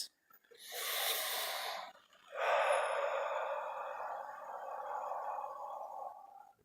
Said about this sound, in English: you're only going to get centered once you take a few deep breaths.